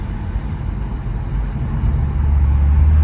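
A powerful car driving with its exhaust valves open, its engine a deep, loud, steady rumble that swells gradually toward the end, heard from inside with no talking.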